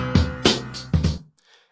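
A piano sample from a hip-hop beat, pitched up one and a half steps, sounds as a few short, bright stabs with harmonic decay, followed by a faint trailing tail.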